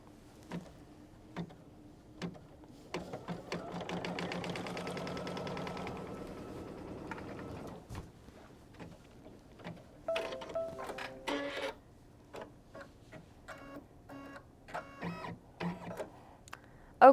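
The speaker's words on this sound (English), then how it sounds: "I'm going to go ahead and stitch the tack down line" Embroidery sewing machine running a tack-down line of stitches on quilt fabric, quiet and close, with a steady mechanical chatter that stops and restarts in short bursts of rapid ticking.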